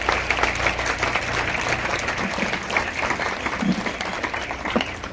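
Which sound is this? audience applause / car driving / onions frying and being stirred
audience applause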